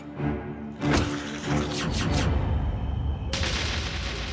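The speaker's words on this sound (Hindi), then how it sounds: "इतना कहकर मार्था ने तुरंत गोली चला दी।" A sharp gunshot crack followed by a dense, crashing burst of noise and rumble, loud and close, with a brief hiss near the end.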